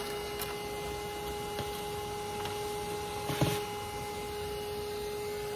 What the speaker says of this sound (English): I got the vac going.